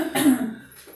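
A single short, sharp cough from a nearby man, loud and close, standing alone.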